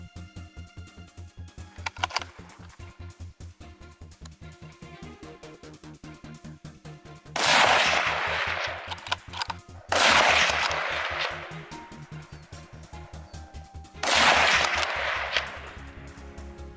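Gunfire during a wild boar hunt: sharp rapid shots crack out in several bursts, loud and echoing, with quieter ticking clatter between them.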